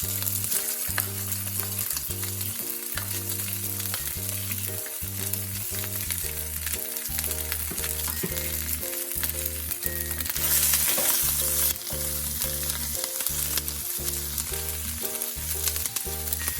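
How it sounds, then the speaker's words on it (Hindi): Ginger and garlic frying in a pan for a stuffed bitter gourd dish, a steady close sizzle with repeated rhythmic stirring scrapes throughout and a brief louder hiss near the middle. "जब ये थोड़ा सा भुन जाए उसके बाद मैं इसमें ऐड कर रही हूँ हमारा जिंजर एंड गार्लिक"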